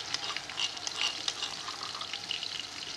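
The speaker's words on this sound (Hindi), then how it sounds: "अब इस मौके पे मेरे पास अदरक लहसुन का पेस्ट है, दो तीन चम्मच है, मैं ये शामिल कर रहा हूँ" Ginger garlic paste fries with browned onions in a pot for potato rice, giving a steady crackling sizzle with light stirring scrapes, close and even throughout.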